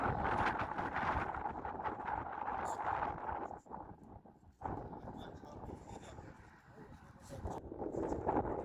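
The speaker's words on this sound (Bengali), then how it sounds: "আর বাতাসে অনেক একটু কথা কম বোঝা দেখবো, কারণ অনেক বাতাস তো" Strong outdoor wind buffets the microphone in an open field, making a continuous loud rumbling roar that briefly drops away before surging back, with a voice partly buried beneath it.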